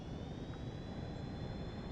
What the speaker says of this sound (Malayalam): ഇതെങ്ങനെയാടാ എന്റെ ഫ്ലൈറ്റ് താഴെ ഇറങ്ങി?